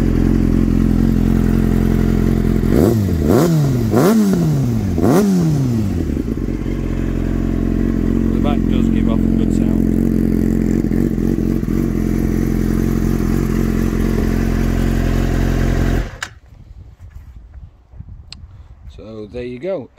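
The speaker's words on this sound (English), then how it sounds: "I'll just start up here, let you hear the exhaust." A 2004 Yamaha R6 sport motorcycle idling loudly and revving several times in quick rising and falling sweeps, followed by a long steady idle, then the engine cuts off abruptly near the end.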